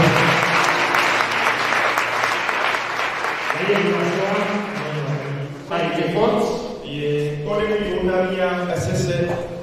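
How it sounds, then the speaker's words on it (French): Steady applause from a church congregation acclaiming the Lord during a service, continuing throughout with a voice speaking over the clapping in the second half. "Est-ce qu'on peut acclamer le Seigneur?"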